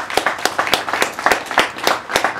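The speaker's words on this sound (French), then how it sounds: "qu'on va applaudir, mesdames et messieurs, s'il vous plaît" Applause from a comedy show audience with quick, rhythmic clapping, sharp claps repeating in a steady beat and fairly loud throughout, with no talking.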